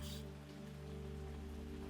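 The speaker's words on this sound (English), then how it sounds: "This rain was coming down in earnest, hard and full and close," Heavy rain drums steadily on a roof close overhead, an even, unbroken wash of water with a low tonal hum running beneath it throughout.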